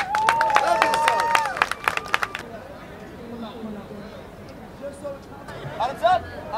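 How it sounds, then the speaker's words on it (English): An audience at a live show in New York City bursts into sharp clapping and whistles for a couple of seconds, then settles into softer scattered claps and crowd chatter. "Give yourselves a round of applause!"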